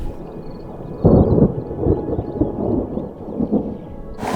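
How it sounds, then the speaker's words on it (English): A sudden flash storm in Türkiye rumbles in low, heavy bursts like wind and thunder, loud and close, with a rough, continuous roar between surges. "we suddenly just got hit by a flash storm and we got absolutely drenched"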